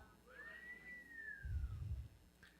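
A single long whistled note rises, holds and slowly falls, fairly quiet, followed by a brief low rumble.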